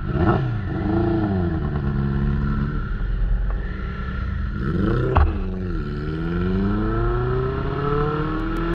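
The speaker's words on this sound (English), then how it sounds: "but at this turn I did get to see some of the power of Van's bike" A motorcycle accelerates through a turn, its engine note climbing in pitch through two strong revving pulls with a gear shift between, loud and close from the rider's position.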